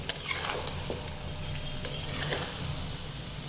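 Chicken with black pepper being stirred in a pan at home, a steady close sizzle and fry with scraping stirs and a few light metallic clinks of a utensil, no talking.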